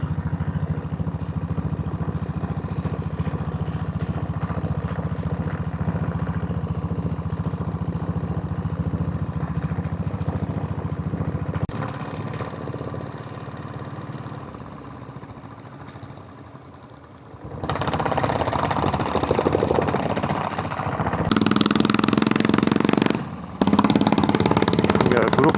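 A diesel Royal Enfield Bullet motorcycle labours uphill on a road trip toward Yercaud, its engine a steady close thumping drone that drops away briefly and then returns louder and rougher.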